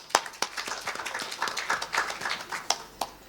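Scattered audience applause at a community event, sparse individual claps at an uneven rhythm rather than a dense roar, moderately close and fairly soft.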